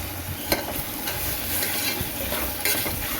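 Salted tomatoes sautéing in oil for mutton pasta, with a continuous close sizzle and intermittent spoon scrapes and taps against the pan, no talking.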